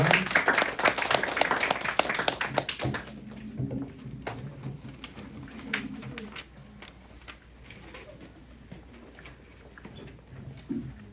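Youth service congregation in a church claps together in a short burst of applause that fades after a few seconds, leaving quiet room noise with scattered soft sounds and a faint voice.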